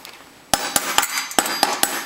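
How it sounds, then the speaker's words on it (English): A small hammer taps a part into place, six sharp metallic knocks in an uneven rhythm, close and loud against a quiet background. "just use a small hammer that you can use to just hammer it in"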